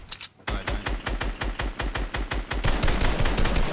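Gunfire in a battle royale game comes as a rapid, regular string of sharp, loud shots, close by, after a brief opening blast and short gap. The shots keep up steadily with no talking.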